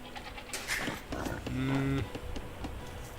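Goat bleats in Age of Empires II, a short wavering animal call rising out of a game's ambient bustle with faint clicks and noises around it, heard alone without talk.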